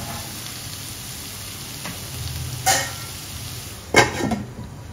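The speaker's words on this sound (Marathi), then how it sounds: "आता परत आपण हे टोमॅटो शिजेपर्यंत अशीच मंद आचेवर झाकण देऊन शिजवून घेऊया." Tomatoes cooking in a covered pan over low heat give a soft, steady sizzle throughout, with a couple of brief utensil clatters, one near the middle and one toward the end; no voices.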